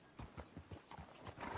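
Horse hooves clip-clop at a steady walking rhythm in Red Dead Redemption 2, soft and fairly close, with no talking over them.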